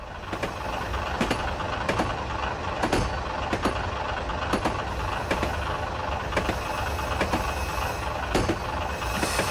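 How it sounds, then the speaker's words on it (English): A steady, rumbling train engine drone from the video game Story of Forest Rail runs throughout, with regular clanking clicks and knocks repeating over it, like a locomotive motor chugging along. "that motor on the train sounds like my old tractor"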